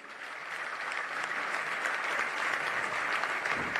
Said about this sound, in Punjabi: ਇੱਕ ਵਾਰੀ ਕਿਸਾਨ ਯੂਨੀਅਨ ਦੇ ਨਾਂ 'ਤੇ ਜ਼ੋਰਦਾਰ ਤਾੜੀ ਹੋ ਜੇ।